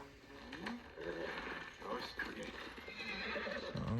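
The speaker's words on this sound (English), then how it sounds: "There's my horse." A horse in the video game Ghost of Tsushima gives a clear whinny with trotting hoof clip-clops around it, fairly close and moderately loud, no talk over it.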